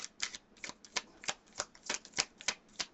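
Tarot cards are shuffled in a quiet room, a rapid series of crisp riffling flicks in a steady, irregular rhythm. The sound is close and fairly soft, with no voices.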